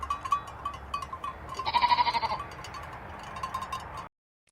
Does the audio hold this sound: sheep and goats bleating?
yes